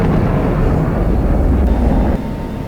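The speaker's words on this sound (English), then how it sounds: "It's just a joy flying this aircraft." An F-16 jet climbs hard in the DCS flight game, a loud, steady, broadband engine roar that fills the whole clip before easing slightly near the end.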